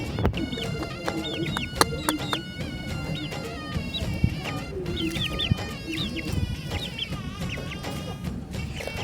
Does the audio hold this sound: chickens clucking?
yes